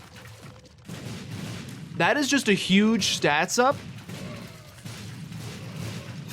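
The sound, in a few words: explosions in The Binding of Isaac: Afterbirth+ video game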